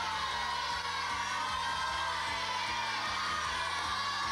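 Studio audience cheering and whooping for contestants on a 1991 children's TV game show Christmas episode, a dense continuous roar of crowd noise with children shouting, loud and sustained throughout.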